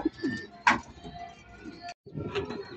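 Soft cooing from a checkered racing pigeon, a few low throaty coos with faint bird movement nearby, quiet and close.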